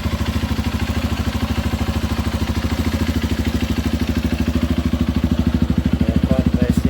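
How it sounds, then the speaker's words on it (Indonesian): Honda CRF 150 motorcycle with a racing exhaust idling steadily up close, a fast even low-pitched thump throughout, with a faint voice near the end. "Saya knalpot pakai repo racing ya. Ini"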